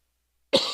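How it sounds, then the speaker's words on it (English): One sharp, close cough bursts out after a moment of silence from a person speaking at a temple gathering, then trails off briefly. "I'll stop here because I'm coughing too much"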